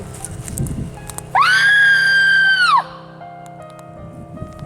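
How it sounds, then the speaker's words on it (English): One long human scream heard from a distant spot during an outdoor sound-range test, a steady held cry lasting over a second, framed by faint background rumble and brief murmurs. "This is what a scream sounds like from this location to this location"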